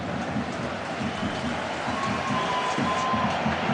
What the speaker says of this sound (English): the Reds coming onto the pitch here, rapturous applause, tremendous crowd here in this beautiful stadium